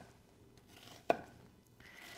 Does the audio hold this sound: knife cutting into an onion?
yes